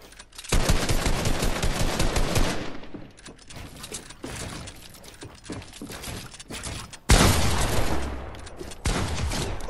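Gunfire in Fortnite, dense bursts of rapid automatic shots that come loud and close, break off into scattered single shots, then return in a sudden heavy burst and keep going.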